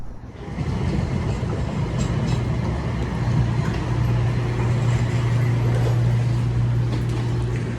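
Inside a moving Siemens S70 light rail train in Salt Lake City, a loud steady low rumble with a humming motor tone and faint track rattle fills the cabin without pause.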